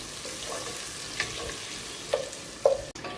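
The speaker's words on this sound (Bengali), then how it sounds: "পেঁয়াজটা আমি লাল করে ভেজে নিয়েছি" Chopped onions sizzle quietly in a pan with bay leaf while a utensil stirs them, giving a soft, continuous fry broken by a few sharp scraping clicks.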